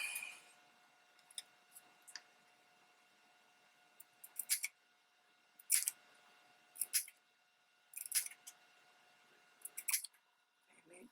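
Small scissors snipping paper ephemera for a junk journal, giving short crisp clusters of cuts every second or two, close and quiet against near silence.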